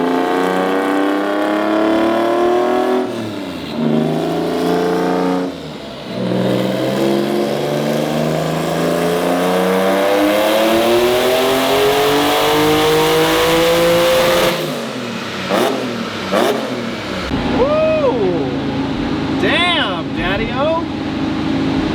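A turbocharged EG33 flat-six in a Subaru WRX STI revs hard on a dyno, pulling up loudly through a long sweep, then cutting off with shorter rev bursts and turbo whoosh, with a voice talking over the loud engine.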